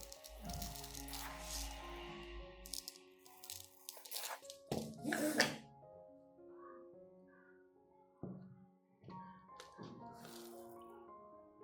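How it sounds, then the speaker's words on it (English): Dry rice is spooned into a clean glass cup, three scoops of grains rattling and pattering against the glass in short bursts separated by quiet pauses, close and fairly soft. "I add 3 spoons of rice into a clean glass cup"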